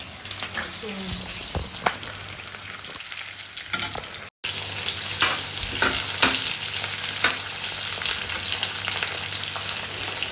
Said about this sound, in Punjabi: ਪਿਆਜ਼ਾਂ ਨੂੰ ਜੀ ਆਪਾਂ 2-3 ਮਿੰਟ ਇਵੇਂ ਭੁੰਨ ਜਾਾਂਗੇ